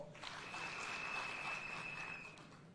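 Crowd clapping at a political rally with the Kenyan president in Migori, a broad, sustained wash of applause at moderate distance, with a faint whistle-like tone riding over it.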